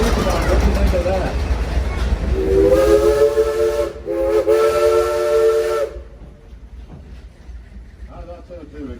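A steam locomotive whistle of the Frisco Silver Dollar Line at Silver Dollar City blows in two long, loud blasts with a brief break between, over a hissing, crowded background with some voices.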